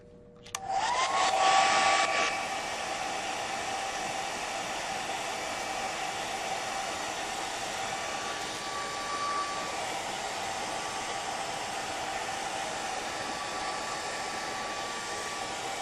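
A hair dryer blowing on gelli plate prints switches on with a rising whine, then holds a steady, loud, airy roar for a long stretch with no talking.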